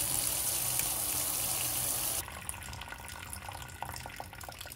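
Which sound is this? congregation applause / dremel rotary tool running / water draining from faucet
water draining from faucet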